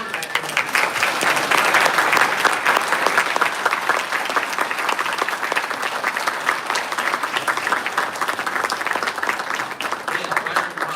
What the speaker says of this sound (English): I want to let all 28 graduates stand up and accept another round of applause